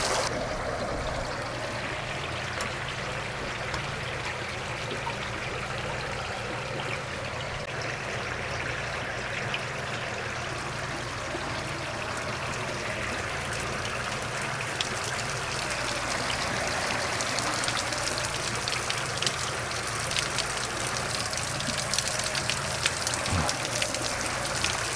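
Water trickles down from the spray bar of a homemade evaporative cooling wall, making a steady, dense patter and splash like light rain that continues evenly throughout.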